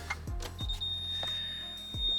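A Subaru turbo timer gives one sustained electronic beep, quiet and close, alongside a few soft clicks and thumps.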